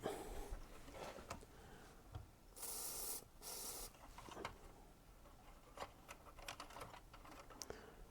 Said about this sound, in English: And I'm going to work the switch a few times.